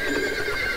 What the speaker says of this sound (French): Félicitations pour ton nouveau cheval.